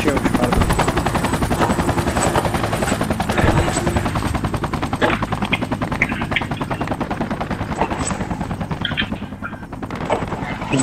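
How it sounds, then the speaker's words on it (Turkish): In the military video game Project Reality, a helicopter approaches with a continuous rotor roar beneath dense, steady machine-gun and rifle fire, while voices talk over the battle. "Nortan helikopter geliyor, Nortan bak."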